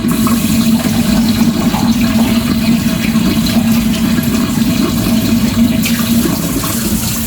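Dirty first-wash water from cucumbers being canned into dill pickles is strained into a kitchen sink, a loud, steady rushing gush that runs unbroken and close for the whole stretch.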